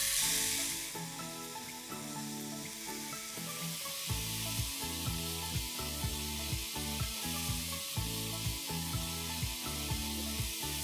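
Prawns tikka sizzle on a hot tawa, a steady frying hiss with repeated soft tapping or stirring knocks, close and fairly loud, with a brief quieter start before it settles.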